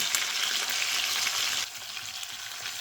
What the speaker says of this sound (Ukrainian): Смажимо з двох сторін золотавого кольору